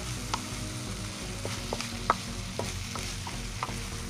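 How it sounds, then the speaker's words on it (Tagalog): Fish simmers in coconut milk in a pan for ginataang isda while a spoon stirs it, soft repeated clinks and scrapes over a faint, steady bubbling sizzle, quiet and close. "Halu-haluin lang natin muna ng konti para tumalab yung lasa sa isda."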